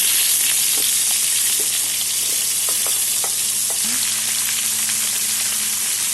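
Potato, pointed gourd and eggplant frying with black cumin in oil for a Bengali fish head chorchori, a steady close sizzle throughout with a few light utensil taps and stirs.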